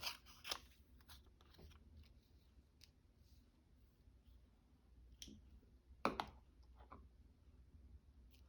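Several crisp scissor snips trim paper, quiet and close, in short bursts separated by pauses, with one sharper cut near the end.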